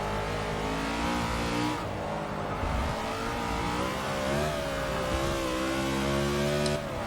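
NASCAR race cars in the video game Forza 6 on the Sonoma circuit, engines roaring loudly and continuously, revving up and down through gear changes with several cars close together, no voices.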